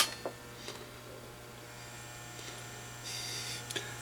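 A Collins KWM-2 amateur radio transceiver hums steadily once switched on, a low constant mains-type drone with a few faint clicks and knocks over it.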